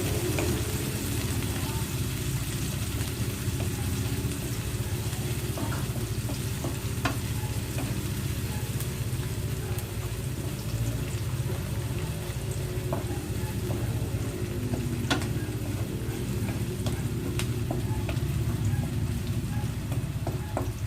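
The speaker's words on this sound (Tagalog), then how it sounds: "Lutuin lang natin yung sibuyas" Onions fry in a pan while a spoon stirs them, a continuous close sizzle broken by small scraping clicks and pops, with no talk over it.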